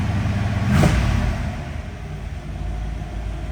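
A 1964 Chevy Impala engine catches from a cold start with a brief loud surge, then settles into a steady, close, low rumbling idle.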